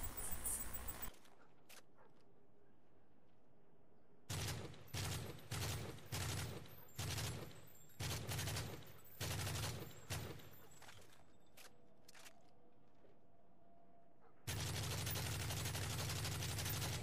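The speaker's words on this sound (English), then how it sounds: "M4A1, and with this assault rifle, it's pretty much just a standard automatic rifle." An M4A1 assault rifle in Modern Warfare 3 firing on full auto, loud short bursts of rapid shots separated by gaps, ending in a long sustained burst.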